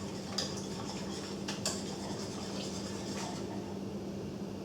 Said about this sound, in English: we're basically just stirring it with a whisk